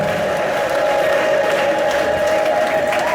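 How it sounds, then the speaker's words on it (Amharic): A church congregation ululates and claps together, a dense, sustained high trilling wail riding over continuous crowd applause. "እልልታና ጭብጨባ ለእግዚአብሔር ስጡት።"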